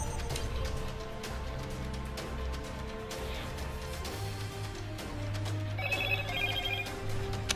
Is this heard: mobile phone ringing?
yes